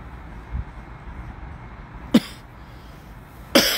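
Two short, sharp coughs from a person on a live stream, spaced well apart over a quiet background with faint room noise.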